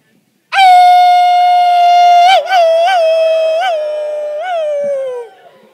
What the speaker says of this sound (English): let's take a nice big howl, whatever noise